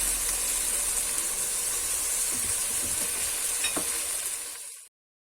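A zucchini and rice dish in a pot, stirred with continuous soft scraping over a steady hiss of simmering and steam, close and constant before cutting off abruptly near the end.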